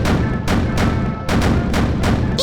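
Eight 55 mm tank guns, four per side, fire alternately on a custom Gundam Ein-Rad style tank in the Sprocket video game, giving about five heavy booming shots in a steady, fairly slow rhythm, loud and close.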